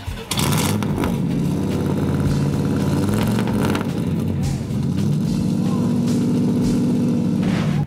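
A street rod's engine starts with a crank and then idles loud and rumbling up close at an outdoor Show & Shine car show in Anthony, Kansas, with a few blips of revving.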